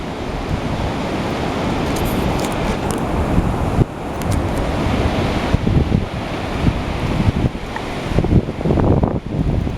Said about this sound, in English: Gotta watch this water's coming in.